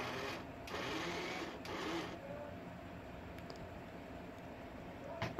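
A kitchen mixer grinder whirs in short bursts as it blends a Maharashtrian-style garlic chutney, with brief loud spins and a quieter stretch between pulses, no speech.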